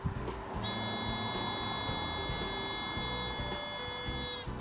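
A solar-powered snake repeller gives off a steady, shrill electronic beeping tone that holds continuously for several seconds at close range, over a low background rumble.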